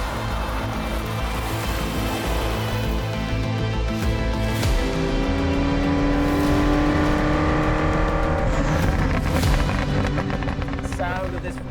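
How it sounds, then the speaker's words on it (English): A Ferrari V8 engine revving hard and loud throughout, with sharp pops and crackles and rising gear pulls over a dense, rumbling roar. "The sound of this Ferrari is just mega. For a V8, it's got a really crisp,"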